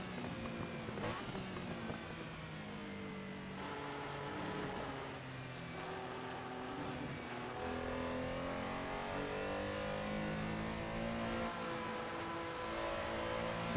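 A Porsche Carrera RSR 3.0 racing at Barcelona in Assetto Corsa: the engine revs and climbs through gears under hard throttle, sharp rising whines and shifts repeating across the lap, loud and close.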